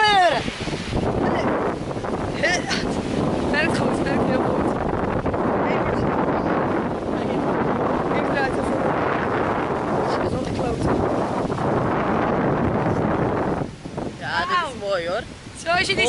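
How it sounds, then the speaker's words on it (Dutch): Strong wind buffeting a boat at sea off Fiji, roaring steadily with microphone wind rumble and water wash, while people talk intermittently over it near the end. "Als je niet ziet, is het ernstig winderig."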